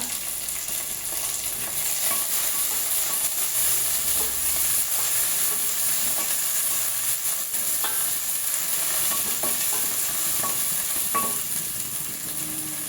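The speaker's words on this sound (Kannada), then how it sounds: "ಒಗ್ಗರಣೆ ಈರುಳ್ಳಿ ಹಾಕೋಣ" Sliced onion and mint leaves tempering in hot oil for an avarekalu sambar produce a dense, continuous close-up sizzle with scattered small pops and crackles over its whole length.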